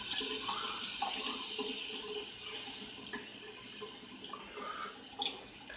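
Water running from a tap wets the face of a natural green slate sharpening stone, a steady close hiss and splash that tapers off midway, with a few small drips and splashes afterward.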